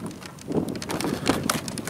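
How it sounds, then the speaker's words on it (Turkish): Wind gusting outdoors across a microphone, giving an uneven, buffeting rush that swells and fades in short bursts, with no voices. "Çok rüzgar var. Rüzgarı kapatmaya çalışıyorum."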